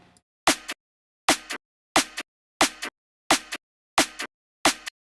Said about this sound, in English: we just have the main snare again.